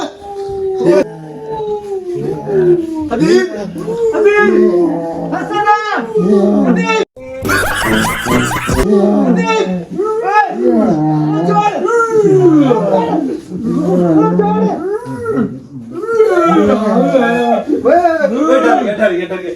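A man imitates a dog howling with his voice, drawn-out rising and falling wails repeated through the clip among ongoing talk from several people during a late-night outdoor chat in Balakot, with a brief louder burst partway through.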